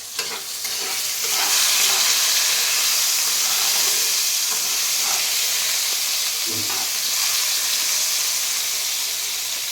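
Mutton frying in a pan gives a loud, steady, hissing sizzle throughout, with a few faint stirring scrapes underneath and no voices.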